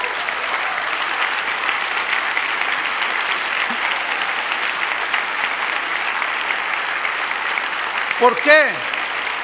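A church congregation applauds in a sustained, even wash of clapping at a sermon, and a voice briefly speaks near the end.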